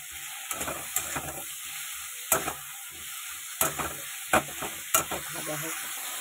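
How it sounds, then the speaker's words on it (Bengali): Okra and potatoes fry in a pan with a steady sizzle, broken by several sharp scraping stirs from a spatula at irregular intervals. No one speaks. "এরকম ভেন্ডি আর আলু ভাজা ভাজা হয়ে গেছে"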